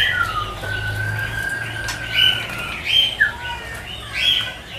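A rare exotic caged bird calls in a bird collector's warehouse, a string of loud chirps and squawky notes with a long whistled tone, close and repeated, with faint wing flutters.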